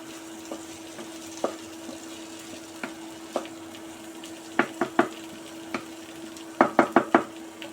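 Garlic is stirred into prawn and potato masala in a pan, a faint steady sizzle punctuated by scattered spoon knocks and scrapes, clustering into quick bursts of three toward the end.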